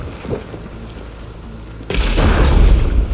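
An explosion in the video game Horizon Forbidden West, a sudden loud boom that follows quieter game ambience and then rumbles on heavily through the low end.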